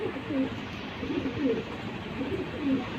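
Pigeons coo softly in repeated low, rolling calls at a steady rhythm, somewhat faint against background noise.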